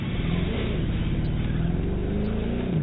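A car engine in The Crew 2 racing game holds a steady, continuous drone with shifting revs during parking lot autocross, loud and unbroken throughout, with no voices.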